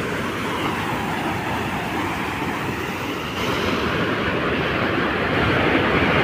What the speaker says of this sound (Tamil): தண்ணி ஃபோர்ஸை மட்டும் பாருங்கள் எவ்வளோ பீச்சு நடிக்குதுன்ட்டு